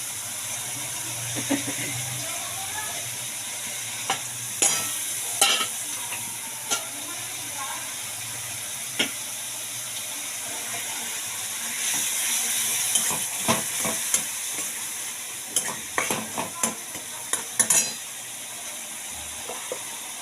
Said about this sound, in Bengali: মশলাটা একটু ভাজা ভাজা হতে না হতে আমি কি করব এই মাছের মাথাটা দিয়েও ভাজাবো